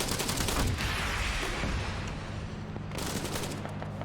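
Dense, continuous gunfire from a Marid armored vehicle in the Arma 3 military game: heavy rapid bursts roll on without pause, loud and close, with one sharper burst near the end.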